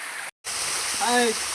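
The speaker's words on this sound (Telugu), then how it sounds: "వాటర్ ఫాల్ చూడండి ఇక్కడ చాలా నీరు పారుతుంది" A hillside waterfall near Kothaguda village rushes with a dense, continuous roar of falling water, cut by a brief dropout, while a voice briefly speaks over it.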